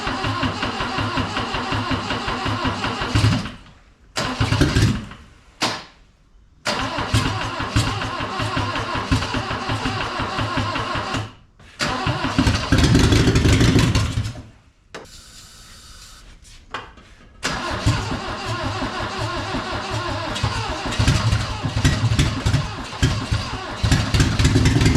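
A 1974 Toyota Celica GT with a gunked-up carburetor cranks and catches, then runs roughly with a loud, steady idle that surges and dips several times, broken by brief pauses and clunks.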